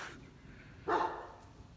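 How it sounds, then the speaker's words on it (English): A single short dog bark rings out at a moderate distance against quiet background noise. "There's some dogs barking there. They sound very angry."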